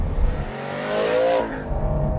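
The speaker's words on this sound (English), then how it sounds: "You put your foot down and it picks up the revs" An Aston Martin GT12 sports car engine revs up, its tone climbing and swelling loudly before easing off, heard close with no voices.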